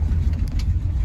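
A 1986 Chevrolet Caprice Brougham idling with its engine running as it is shifted into reverse: a steady, loud, low rumble throughout, close by, with no one talking.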